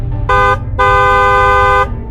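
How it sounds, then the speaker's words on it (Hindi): A loud bus horn honks twice, a short blast then a longer sustained one, close by over low traffic rumble. "तभी बस वाले अपने बस का हॉर्न बजाता है"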